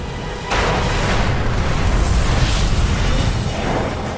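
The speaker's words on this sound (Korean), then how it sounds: "몇 초 후 동체가 폭발했다" A MiG-15 fuselage explodes in the air, a sudden loud boom at about half a second that swells into a sustained, rumbling roar lasting several seconds.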